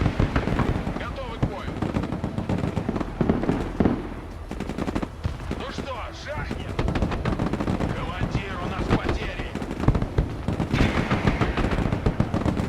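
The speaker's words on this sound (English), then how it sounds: "M113 is taking loads of damage from those grenade launchers." Heavy automatic gunfire and explosive impacts from grenade launchers pound an M113 armored personnel carrier in the Broken Arrow video game, loud and continuous bursts layered with rattling shots and booms, with a voice talking over the battle.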